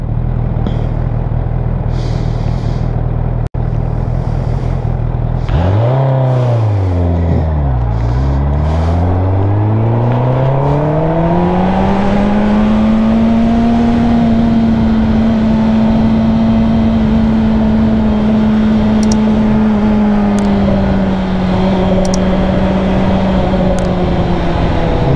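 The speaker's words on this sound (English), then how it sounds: "Stock exhaust." Car engine with a stock exhaust, idling low, then revving up and down twice before settling into a long sustained rev, loud and close with no talk.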